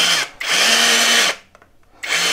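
The motor of a Heimerdinger LB142 cordless grease gun whirs loudly in forward rotation in two bursts of about a second each, separated by a short quiet gap with faint clicks, and no talk over it.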